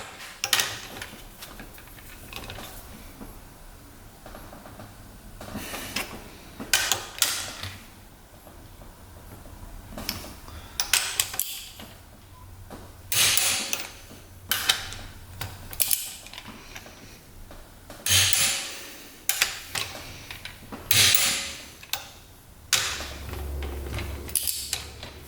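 A torque wrench tightens UTV cylinder head bolts to about 33 foot-pounds in a workshop, making irregular bursts of ratcheting clicks and metallic creaks separated by short pauses.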